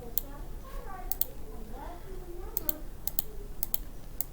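Computer keyboard typing, a scatter of light clicky keystrokes in small bursts, faint and close, under quiet speech.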